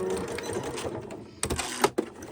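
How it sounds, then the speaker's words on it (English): A home sewing machine stitches the ends of a lined zipper pouch with a quarter-inch seam, a quiet steady whir of running stitches followed by a few sharper clicks and thumps as it stops. "I'm just using like a 1/4 inch seam, and I'm just going to sew"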